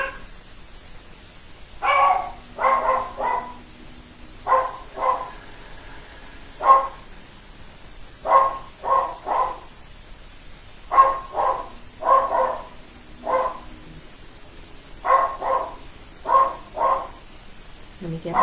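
A dog barks in short repeated bursts at fairly regular intervals, moderately close, over a quiet indoor background during a morning meditation, with faint talk.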